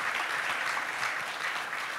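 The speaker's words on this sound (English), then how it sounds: "let's give a round of applause for" A conference audience applauds a keynote speaker at an assessment event, a dense, steady wash of many hands clapping at even loudness for the whole stretch, with no talking over it.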